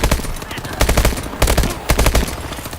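Loud bursts of rapid automatic gunfire from an elite weapon in Call of Duty Advanced Warfare, several short volleys in quick succession with brief gaps, close and dominant.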